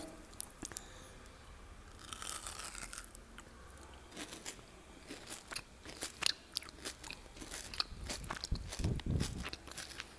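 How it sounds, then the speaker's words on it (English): Crispy kataifi pastry in Dubai kunafa chocolate crunching up close as it is bitten and chewed, with repeated sharp crackling bursts and a heavier chewing crunch near the end, no talking. "The kataifi is so crispy and it's just so good. Can you hear the crunch?"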